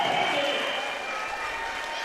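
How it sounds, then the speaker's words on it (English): A crowd at a high school wrestling match cheers and applauds steadily, a dense continuous roar of clapping and shouting that fades slightly over a couple of seconds. "the crowd kind of goes wild here for Pasternak"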